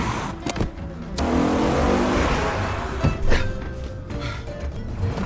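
A car driven aggressively by a teenage driver in a chase in the film Peninsula: engine roars and revs close by, with sharp bursts, a sustained surge and passing rushes, tire noise mixed in.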